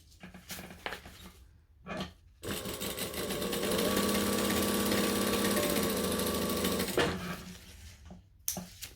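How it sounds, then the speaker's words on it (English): A sewing machine top-stitches the folds of a fabric clutch, running in a steady whirring burst of about four seconds between shorter stop-start stitching runs and quiet pauses. "So we're going to just top stitch all of the folds."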